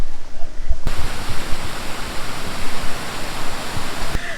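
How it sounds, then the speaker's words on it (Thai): Waterfall on the Phu Soi Daw trail, a loud steady rush of falling water that fills the scene and holds without change, with faint handling noise at the start and no talk. "ดูเสียงน้ำตกนะ"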